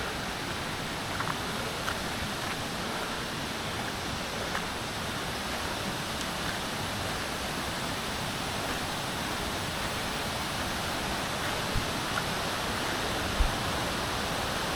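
Steady broadband rush of a waterfall in Tanay pours continuously, loud and even with no pauses, only faint occasional small sounds on top.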